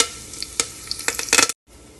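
Garlic, cumin and curry leaves sizzle in hot oil in a pan while being stirred for brinjal bharta, with crackling pops that build up and then cut off abruptly.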